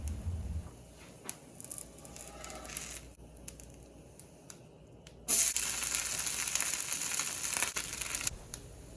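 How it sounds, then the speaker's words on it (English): Rice roti dough spreads and cooks on a hot griddle, giving soft crackles at first, then a steady, louder sizzle that lasts until near the end. "Place it on hot griddle and spread it into a round roti."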